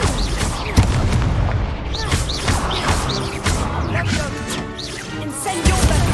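Deep booming blasts of the Confringo explosion spell in Hogwarts Legacy burst repeatedly through busy, loud combat, with crashes and a voice heard over the fight.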